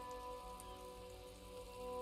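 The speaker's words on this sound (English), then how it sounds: "7-story buildings trail off into the rain. What is beyond that? Silver curtain of rain." Rain falls steadily in the video game Disco Elysium, a soft continuous hiss of drops over a city street, with faint sustained tones from the game's ambient music layered beneath.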